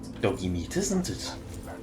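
The dog companion in the video game Fallout: New Vegas barks in a few short yips and whimpers, mid-loud and close, mixed with game sounds and a voice.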